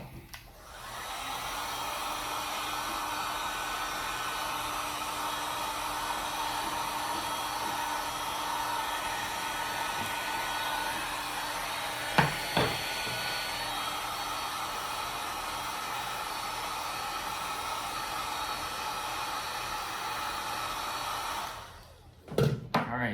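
A steady, loud hot-air blower whooshes almost without a break while heating a Babolat racquet bumper and grommet strip, with a couple of brief knocks midway before the airflow cuts off at the end.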